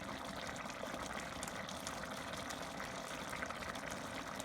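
Juice poured over rice in a pan for chicken cacciatore, a soft continuous splashing and trickling of liquid, faint and steady from start to finish.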